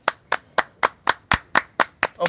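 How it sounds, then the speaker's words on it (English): About nine sharp, evenly spaced hand claps, close and distinct, spaced roughly a quarter second apart with no other sound between them. "Applause to Dan for watching us"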